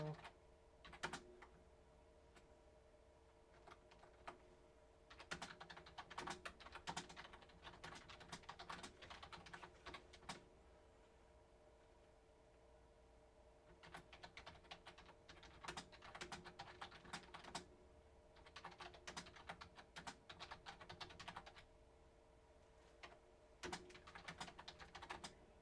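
Bursts of typing on a computer keyboard clatter close by, with rapid key presses coming in clusters and short pauses between them, over a low steady hum.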